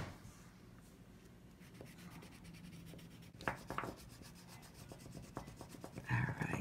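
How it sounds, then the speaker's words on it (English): Wet crayon is rubbed onto journal paper in a travelers notebook, giving soft close scratchy strokes in irregular bursts, quiet and alone. "once the crayon gets even wetter, it definitely goes on so much better"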